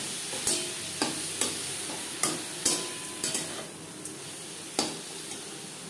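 A spatula stirs red amaranth leaves with peanuts and lentil dumplings in a pan, with about a dozen sharp scraping taps at an uneven rhythm over a soft, steady sizzle.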